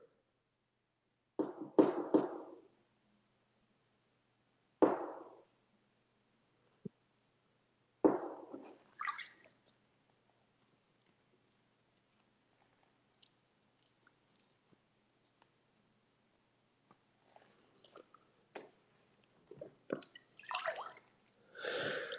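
Water in a bathtub drips and sloshes in sparse, quiet bursts separated by long silences, a few sharper splashes near the start and scattered soft drips later.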